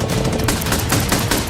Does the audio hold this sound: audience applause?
no